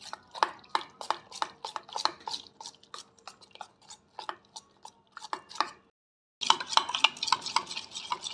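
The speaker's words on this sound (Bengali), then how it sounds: "অল্প অল্প করে জল দিয়ে এটা গুলে নেব" A utensil stirs cauliflower batter in a bowl as water is added a little at a time, making quick rhythmic wet scraping strokes. There is a brief silent pause, then denser, steadier stirring.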